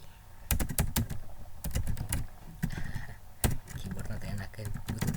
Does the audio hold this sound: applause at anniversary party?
no